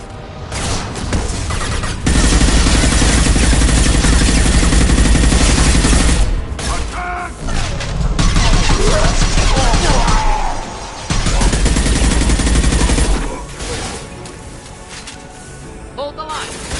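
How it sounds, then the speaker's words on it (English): Loud, dense bursts of automatic gunfire and explosions fill a Mass Effect 2 battle, with rapid fusillades broken by short lulls. Voices shout over the combat. "Stop firing at me,"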